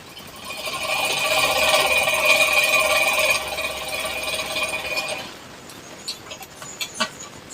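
Sewing machine running a straight stitch along fabric for plazo pants, a steady close mechanical whir for about five seconds, then stopping, followed by a few faint clicks and handling sounds.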